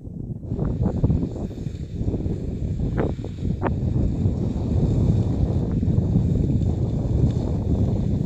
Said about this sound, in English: It's a bit windy, so I hope you can hear me.